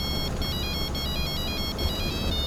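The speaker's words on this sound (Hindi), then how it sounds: "भाई, तुम्हारे फोन पे कोई फोन कर रहा है।" A mobile phone rings with a repeating electronic ringtone, a steady series of bright chirping tones in short bursts, over a low background rumble and without speech.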